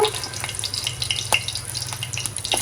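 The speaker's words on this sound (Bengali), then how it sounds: "এখানে আবার তেল গরম করতে দিয়ে দিলাম অল্প একটু কাঁচা জিরা দিয়ে দিলাম" A small amount of cumin seeds sizzles in a pan of hot oil while a home-style okra curry is started: a steady, close, crackling fry hiss that runs throughout, with no voices.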